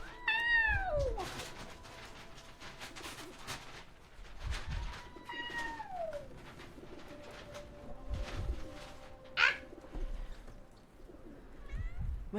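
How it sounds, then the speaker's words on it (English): Several synthesized, digital-sounding cat meows with sweeping pitch, spaced a few seconds apart over a busy background with low thumps. "have you just been listening to this like digital cat meow?"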